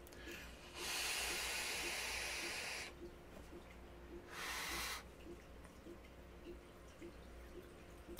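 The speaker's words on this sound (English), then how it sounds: "Let's have vape." Two long inhaled draws on an RTA vape tank fitted with a Falcon coil at 80 watts, each a soft airy hiss, the first about two seconds and the second shorter, with faint regular ticking beneath.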